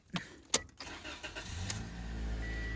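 A 2016 Toyota Corolla engine cranks with a couple of sharp starter clicks, then catches and settles into a steady low idle, close and fairly quiet.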